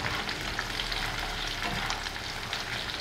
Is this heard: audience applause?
no